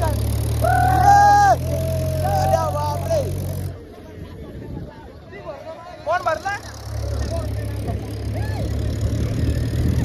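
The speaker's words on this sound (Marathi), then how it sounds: "ट्रॅक्टर आणलं" A tractor engine runs steadily through the scene, its low mechanical drone dropping away briefly midway before returning, with several people talking and shouting over it close by.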